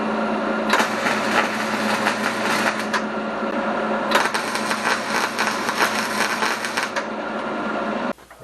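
Tack welds are laid on parts for a welding table add-on with a stowaway vise, a loud, close, crackling buzz held for several seconds in two long runs, then cut off sharply.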